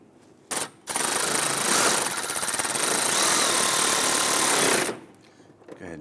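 Power driver running screws in to mount the grille on a 2008-2013 Infiniti G37, a short tap followed by a loud, continuous buzzing whir lasting about four seconds before it stops.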